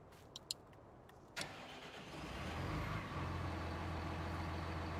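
A tractor engine starts up in Farming Simulator 19 (a Claas Atles 900RZ mod) after a few faint clicks. It catches with a sharp burst, then settles into a loud, steady low idle rumble, with no talking.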